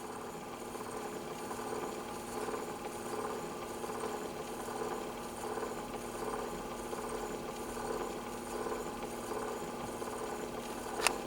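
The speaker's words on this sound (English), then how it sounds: "That is the sound of a Victrola motor." Steady low mechanical whirring of the spring-driven motor of a 1917 Victor Victrola VV-XI phonograph, faint and continuous, with a soft click near the end.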